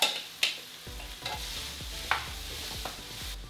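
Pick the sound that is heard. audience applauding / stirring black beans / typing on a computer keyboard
stirring black beans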